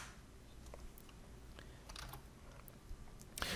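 Fingers type a command on a computer keyboard, a quick, irregular run of close, crisp key clicks with a louder clack at the end.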